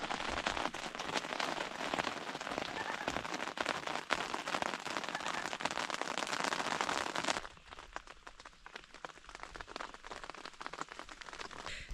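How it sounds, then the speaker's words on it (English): Steady rain patters on a canoe campsite, a loud dense hiss of drops on surfaces that drops to a softer, sparser drizzle partway through, with no voices. "It rained for quite a while"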